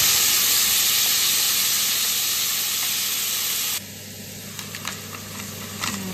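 Bitter gourd (ampalaya) frying in a pan with oil, a loud continuous sizzle and hiss, dropping slightly in intensity partway through with small crackles and stirring clatter afterward.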